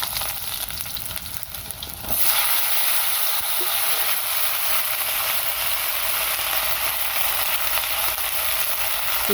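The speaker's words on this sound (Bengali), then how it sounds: "তেল দেওয়ার পরে এখন কুমড়ো দিয়ে দিব" Pumpkin drops into hot oil with green chilli and onion, setting off a loud, close, continuous sizzle and hiss that jumps up sharply and holds steady to the end.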